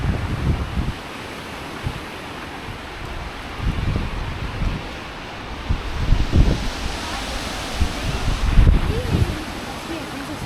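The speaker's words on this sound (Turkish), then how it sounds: "böyle bir rüzgar var ki insanı uçuruyor yerinden ya" Strong gusty wind at the Nasreddin Hodja tomb in Akşehir, Konya, buffets the microphone in loud, uneven bursts over a constant roaring rush of air.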